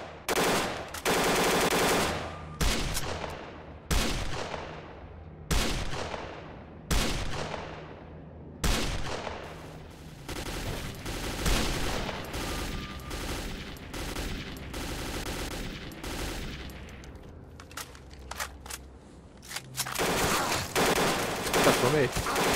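Machine gun fire in the shooter game STALKER Clear Sky: repeated loud bursts of automatic gunfire and single sharp shots with echoing tails, coming in rapid clusters over a rumbling battle background, with occasional talk underneath.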